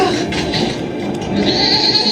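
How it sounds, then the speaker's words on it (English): A goat in a video game bleats over a steady bed of game ambience, with a couple of nasal cries rising above the background and no speech. "That goat's gonna pick it up for us."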